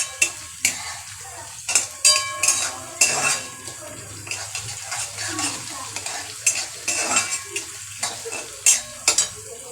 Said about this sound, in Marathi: टॅमॅटो पण चांगलं परतून घ्यायचं आहे